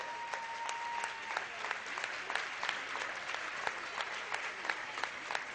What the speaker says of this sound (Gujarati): જોરદાર તાળીઓથી આપણે એમને વધાવીએ